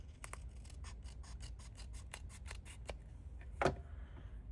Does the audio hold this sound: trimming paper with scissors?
yes